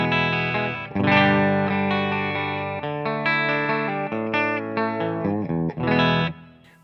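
A Les Paul electric guitar with a clean tone plays a run of sustained notes and chords, loud and close, with no talking.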